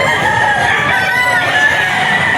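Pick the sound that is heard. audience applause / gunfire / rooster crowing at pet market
rooster crowing at pet market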